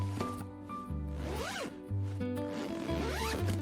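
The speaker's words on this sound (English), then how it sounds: "Zip it up." A school bag zipped shut, two long rising zipper pulls close and clear with short rustles between, no talking.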